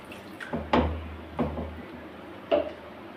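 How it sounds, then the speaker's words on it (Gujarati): Water poured over potatoes, drumsticks, cluster beans, brinjal and green chillies for vegetable sambar, three separate splashy pours with low thuds, close and otherwise quiet. "અને આમાં આપણે પાણી એડ કરી દઈએ."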